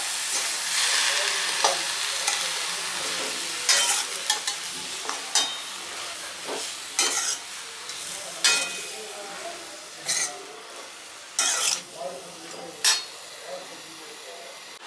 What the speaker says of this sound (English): So now let's stir this. Let's mix this with the onions.